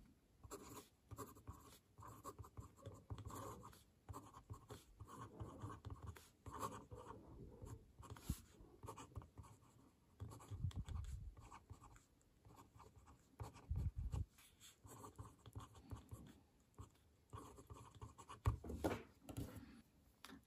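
A fountain pen with an F nib scratches softly across smooth X17 paper in close, quiet strokes. The strokes are irregular and continuous, with brief pauses between words.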